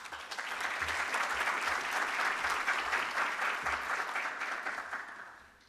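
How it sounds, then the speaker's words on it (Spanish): Strong, sustained applause from a conference audience at a Peruvian electoral studies congress, dense and even throughout before tapering off at the end, with no talk over it. "Señoras y señores, con un fuerte aplauso recibamos"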